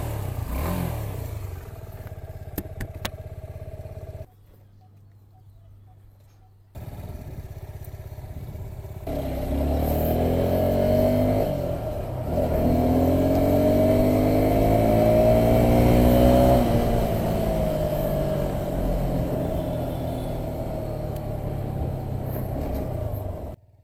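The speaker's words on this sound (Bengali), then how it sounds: "বাইকটার দেখেন এক্সোস্ট নোটটা কিন্তু জোস।" A Suzuki Gixxer 250 motorcycle revs and pulls away while riding, its exhaust note rising and falling through gear changes, loud and close, with a brief quiet gap before the engine picks up again; no talk.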